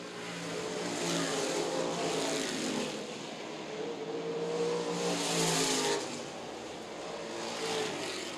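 Race cars lapping Winchester Speedway during a short-track event, with engines swelling and fading as packs pass by in two broad waves, loud, steady and a little distant, with no speech over them.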